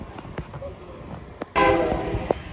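An Amtrak Acela arrives at Wilmington station, Delaware, with a loud surge of rolling train noise and a brief horn note near the end, after quieter platform ambience with light chatter.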